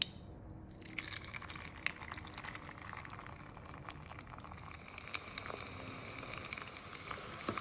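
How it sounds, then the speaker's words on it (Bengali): Spoonfuls of noodle pakora batter fry in hot oil in a pan, giving a steady, fairly faint bubbling sizzle with scattered crackles and pops that grow busier toward the end, with no talking. "এবারে আমাদের এই নুডলসের মিশ্রণটাকে একটা চামচের মাধ্যমে আমি এখানে ভেজে নিচ্ছি।"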